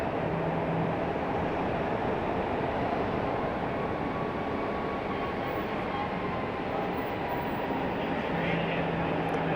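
A Delta Connection airliner landing at Raleigh-Durham International Airport, heard as a steady broad jet roar at a distance that holds through the whole stretch with no talk over it.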